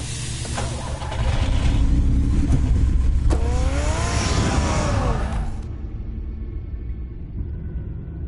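A car engine in the Batman Telltale game roars up loud and steady, with a rising whine midway through, then drops to a softer idle rumble for the final seconds.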